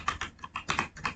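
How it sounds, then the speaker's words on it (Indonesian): Quick, uneven keystrokes on a computer keyboard while entering switch configuration commands in Cisco Packet Tracer: about a dozen close, crisp clicks in a brief burst. "lalu kita ketikkan enable"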